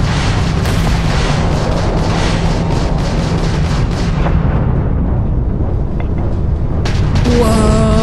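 A missile explosion during space combat in the video game Starfield, a loud continuous roaring rumble of booms and blasts that fades into a lighter crackle, with a rising synthetic tone at the end.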